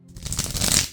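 Tarot cards being shuffled by hand, a brief close riffle of papery flutters lasting about a second.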